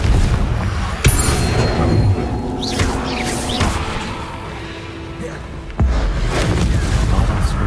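A Confringo fire spell blasts in the Hogwarts Legacy video game, with sharp booming impacts near the start and again later, over continuous game ambience and whooshing effects.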